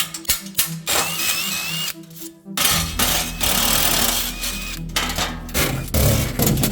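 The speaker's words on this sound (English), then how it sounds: "So let's start drilling holes." A power drill whirs in bursts, drilling holes for riv nuts in the rear of a G35 coupe, starting and stopping several times with a grinding buzz, close up and fairly loud, no talking.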